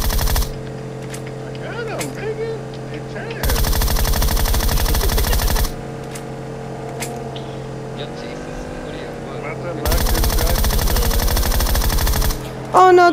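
Sustained automatic gunfire in PUBG Mobile comes in three long, loud bursts lasting a few seconds each, separated by quieter stretches of game ambience with a steady engine-like hum underneath.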